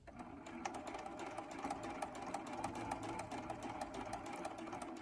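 A sewing machine stitching into a partial seam on a t-shirt quilt, its needle hammering in a fast, even rhythm, close and continuous with no talking.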